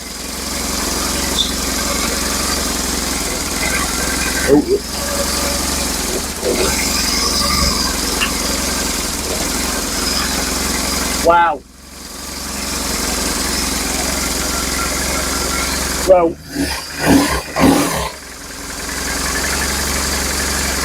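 A BMW R1150GS motorcycle engine idles loudly and steadily close by, with a couple of brief dips and revs where it stumbles and catches again, while a voice speaks briefly over it.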